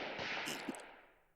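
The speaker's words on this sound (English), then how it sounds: "Just now, were those Sua's gunshots? Yep, gunshots." Gunfire from the visual novel game Chaos;Head Noah: a short, loud burst with a sharp crack and a second report, then a fading tail. No one speaks.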